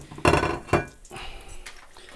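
Steak lifted out of an air fryer: two sharp rattling clanks of the basket sliding out, followed by softer scraping and clattering of metal and a faint hiss.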